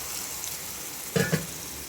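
Ground paste stirred into hot oil with spices for pirandai pickle, a soft sizzle under a couple of brief scraping clatters from a utensil in the pan.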